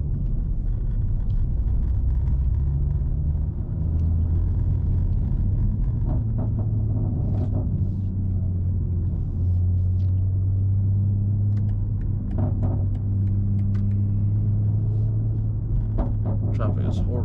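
Cabin sound of a 2024 BMW M3 Competition xDrive on the road, a constant low engine and road rumble with a droning hum that rises and falls, while someone talks over it.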